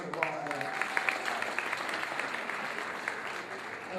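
Applause from an audience at a national convention in New York, a steady patter of clapping with a few sharper claps standing out, moderately distant and fairly soft, with a faint murmur of voices underneath.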